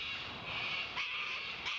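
An immature chough calling in a nature reserve near Canberra, a pair of harsh, drawn-out cawing cries at moderate distance with no other sounds around them.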